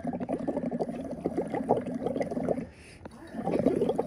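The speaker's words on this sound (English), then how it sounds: "Go ahead and blow into the lime water" A child blows through a straw into a container of lime water, making rapid bubbling gurgles in bursts, with a brief pause before the bubbling resumes, close and fairly loud.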